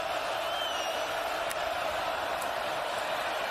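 A college football stadium crowd at Michigan versus Illinois, a steady wash of distant roaring and murmuring voices with no clear peaks, sustained throughout.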